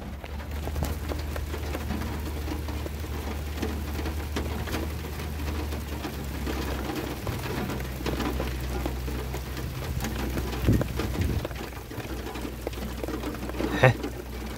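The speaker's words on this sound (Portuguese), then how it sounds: "bonita a chuva caindo aqui" Steady rain falling during a storm in the Piauí sertão, a continuous hiss with low rumbling and occasional louder thumps, heard from inside a small car as people talk.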